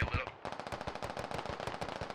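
Rapid automatic gunfire from the military shooter Squad rattles in fast, continuous bursts, loud and close, with a voice talking faintly underneath.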